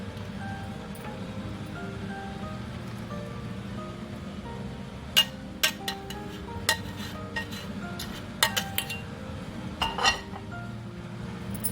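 Metal kitchen utensils clink and tap sharply a few times while melted jaggery syrup is strained in a home kitchen, the bright clatters standing out over a steady low background hum.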